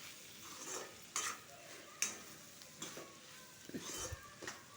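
Tempering spices sizzling in a pan for fried rice, with soft frying and a few metal scrapes and clinks as the mixture is stirred, faint and close.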